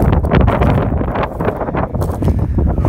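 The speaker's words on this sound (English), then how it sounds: "it is way too windy to spray" Strong wind buffets the microphone with heavy, continuous low roaring and gusty rumbles, loud throughout.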